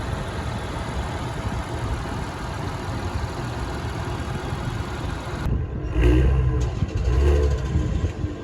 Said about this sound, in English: You can hear it with the engine running from up there.